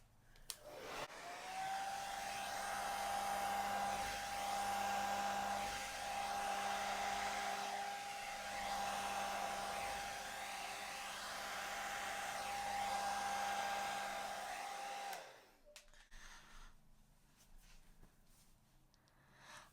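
A hair dryer blows steadily over an acrylic Dutch pour painting, a close, loud continuous whir with a high whine that runs for about fifteen seconds before switching off, leaving faint handling noise.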